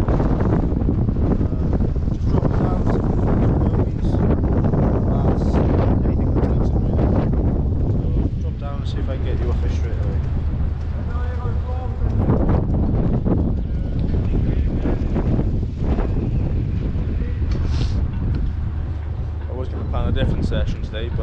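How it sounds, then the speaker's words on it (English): Strong westerly wind buffets a microphone at marina docks, a loud continuous roaring rumble with gusty surges, and someone talks over it at times. "It's blowing a really strong westerly wind today."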